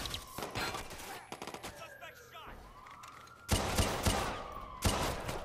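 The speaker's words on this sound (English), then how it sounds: "He's shooting at me. I'm gonna have to shoot back." Gunfire from an enemy in Watch Dogs 2, with rapid bursts of shots crackling in clusters, briefly easing in the middle, then two loud volleys near the end, mixed with game effects.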